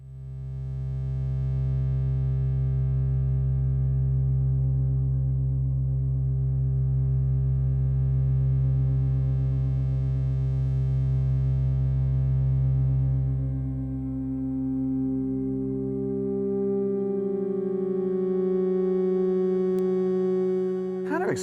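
An Ableton Wavetable synth drone runs through an auto filter, holding a loud, steady, harmonically rich sustained tone that shifts and brightens toward the end as the filter opens.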